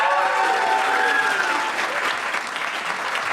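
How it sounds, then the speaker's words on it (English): A stand-up comedy audience applauds steadily in a dense wash of clapping with cheering and whoops mixed in, loud and close throughout, as a comedian is introduced. "Please start whooping and cheering and applauding for the amazing Harriet Dyer!"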